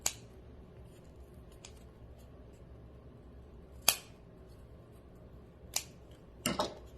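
Scissors trimming the ends of ribbon for patriotic table decor, several faint crisp snips spaced a few seconds apart, the last two in quick succession, in an otherwise quiet room.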